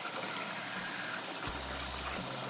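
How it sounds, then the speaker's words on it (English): Hands are washed under a running kitchen tap, a steady close hiss of flowing water that runs through the whole stretch, with a brief low hum partway along. "the last thing I'm gonna do before I start to get my ingredients out is wash my hands."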